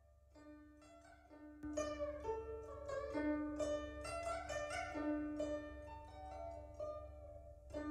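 A plucked string instrument plays a descending scalar figure with the thumb drawn across the strings, clear, ringing notes stepping downward one after another, close and alone over a low background hum.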